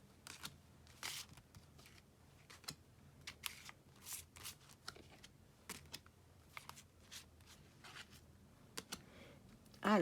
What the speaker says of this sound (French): je commence à tirer les cartes. Oh, elles glissent, elles glissent.